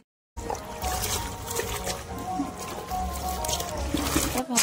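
A new cotton garment being soaked and hand-washed, with steady close water sloshing and trickling throughout and someone talking over it.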